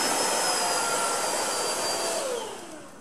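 A Tineco iFloor 3 wet-dry vacuum cleaner powers down. Its steady loud whine holds, then fades and drops away over the final second, with no talking.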